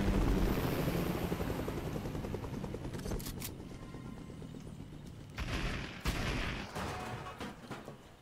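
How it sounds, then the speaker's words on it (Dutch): A helicopter drones in the Fortnite video game, its rotor noise fading over several seconds while a few sharp gunshot-like bursts crack through in the middle and near the end. "Pas op! Helikopter!"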